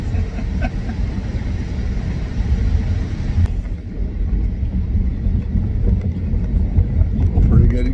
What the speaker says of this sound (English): Pretty good acceleration.